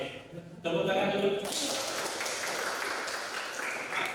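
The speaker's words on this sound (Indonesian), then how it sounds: "Tepuk tangan dulu" An audience at a teaching session gives a short round of applause, a dense burst of clapping that follows a voice and then carries on steadily for several seconds.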